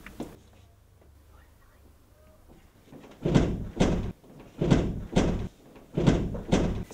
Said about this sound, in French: il nous faudrait un bélier pour défoncer cette porte